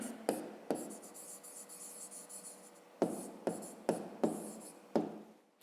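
A pen writes in a fifth-grade math exercise book. Close scratching strokes come in bursts, with sharp taps as the pen touches down and short pauses between numbers, and there is no talking.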